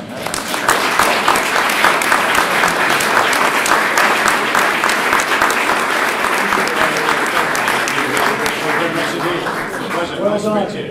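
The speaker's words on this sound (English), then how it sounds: "Just all join together and applaud each other." An audience at a public event on nuclear risk applauds for about ten seconds. The clapping is dense and sustained, then thins toward the end as voices start to emerge.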